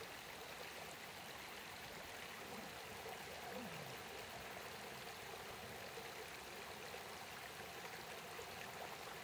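Quiet river water flows steadily in a soft, continuous rushing wash, distant and faint, with no voices or other sounds.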